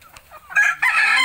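Native hens at a chicken farm, a close, loud burst of clucking and squawking calls lasting about a second, with a faint voice underneath.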